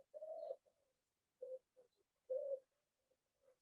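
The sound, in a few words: wood pigeon cooing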